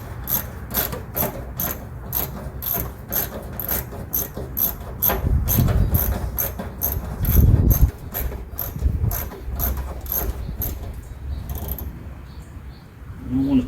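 A ratchet on a 1974 Dodge D100 pickup clicks in a steady, even rhythm as a part on a porcelain electronic ignition control box is tightened, with low handling noise in the background.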